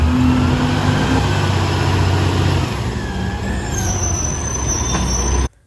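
A CR&R garbage truck collecting dumpsters, its engine rumbling loud and steady from close range with some mechanical whine on top, before the noise cuts off abruptly near the end.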